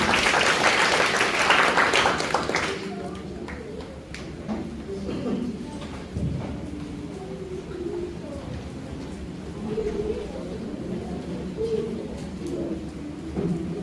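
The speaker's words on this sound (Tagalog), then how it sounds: "Welcome po natin ang palakpak." Applause from a church audience greeting a reverend speaker, a dense broadband burst of clapping for the first few seconds that then stops, leaving room noise and scattered sounds.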